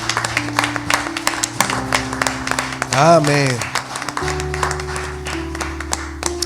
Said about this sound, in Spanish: damos un aplauso al Señor, hermanos